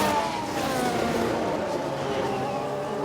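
A Ferrari Formula 1 car in the F1 Manager 2022 racing game gives a dense, continuous engine roar with trackside noise, steady and fairly loud throughout, with no clear pauses.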